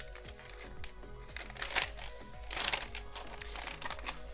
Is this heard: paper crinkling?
yes